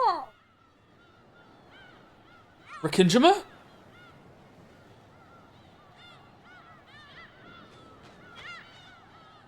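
Seagull cries from the video game Pragmata repeat throughout in short rising and falling calls, moderately loud, with a burst of speech cutting in briefly near the middle.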